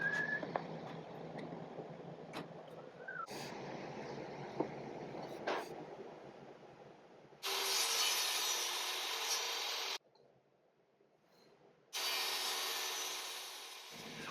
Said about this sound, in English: I just used a table saw and a stop block